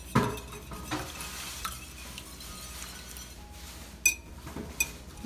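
Eggs are stirred and broken up in a bowl for French toast, faint clinks of a utensil against the bowl with a few sharper taps over a quiet kitchen background.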